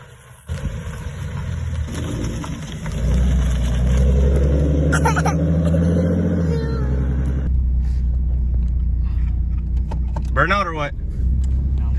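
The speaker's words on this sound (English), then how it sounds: "Car's up and running." A 2012 Ford Mustang engine starts and settles into a steady low idle rumble, with a person talking over it and brief rattles near the end.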